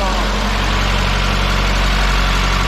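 A 2.0-litre Opel C20XE four-cylinder petrol engine idles steadily after 14 years without running, a loud, continuous close-up rumble with a low, even throb and no other sounds.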